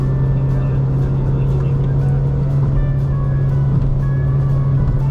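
A 2025 Proton Saga with a CVT accelerates smoothly from inside the cabin, a steady droning engine hum holding a constant pitch at high revs, loud and continuous throughout.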